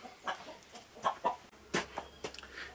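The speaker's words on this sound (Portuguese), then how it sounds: "E a galinha acabou de botar um ovo, eu só vou tocar ela pra lá e já volta" A hen that has just laid an egg clucks loudly and close by on a farm in the late afternoon, a string of irregular, squawking cackles with short gaps between them.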